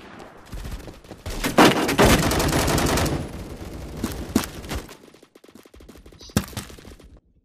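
Rapid automatic gunfire in the Roblox shooter Phantom Forces rattles in loud bursts, dense at first, then scattered single shots and short volleys trailing off toward the end.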